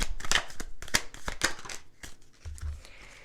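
Tarot cards being shuffled and drawn by hand: a quick run of crisp, papery snaps and flicks close by, easing into a softer slide as a card is pulled out.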